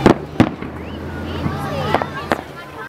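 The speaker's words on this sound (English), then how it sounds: "Most children gathered tightly around their parents to watch the fireworks lighting up the sky." Fireworks at a downtown traditional annual celebration, several sharp bangs and crackles spaced irregularly at middle distance, with crowd murmur and voices talking underneath.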